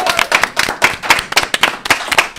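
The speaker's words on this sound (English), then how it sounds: "ask for a round of applause for our wonderful players on the stage" An audience claps for players on stage at the close of a live Adventurers Wanted: Rebellion show, a loud, close round of applause that holds steady throughout.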